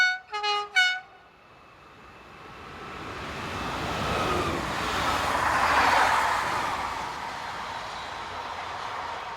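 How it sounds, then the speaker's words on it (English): A Z24500 double-deck electric train unit in the Rhône-Alpes region sounds a few short horn blasts, then rumbles past with a swelling wash of wheel and track noise that peaks and slowly fades. "Local services are often in the hands of Rhone-Alps-based Z24500 double-deck units."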